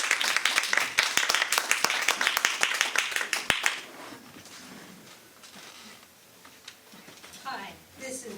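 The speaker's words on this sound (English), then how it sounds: "round of applause for Kate." An open mic night audience at a bookstore applauds a poetry reader: crisp, dense clapping for about four seconds, then it fades away into quieter room murmur and faint voices.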